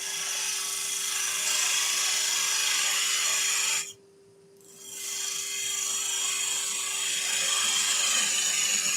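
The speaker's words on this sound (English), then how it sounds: "Parting tool, just we will part this off." A parting tool cuts a wood-turned hummingbird free on a lathe, giving a steady loud scraping whir with a constant motor hum. The noise drops out briefly near the middle, then resumes and carries on to the end.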